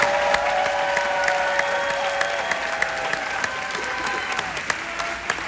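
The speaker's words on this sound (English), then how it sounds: "Big round of applause." A convention panel crowd claps steadily to welcome Star Trek actor Garrett Wang, a loud sustained wash of applause with sharp individual claps popping out and faint tones beneath.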